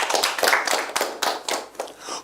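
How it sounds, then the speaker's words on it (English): A studio audience on a Nigerian accountancy quiz show gives a short burst of applause, a dense, close clatter of many hands lasting about two seconds. "A round of applause for AAUA."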